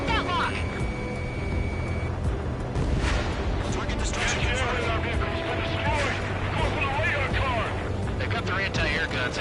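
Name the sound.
anti-aircraft gunfire in the video game Ace Combat 7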